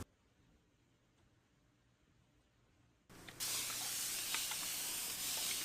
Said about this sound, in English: you can give your seeds a good spraying with water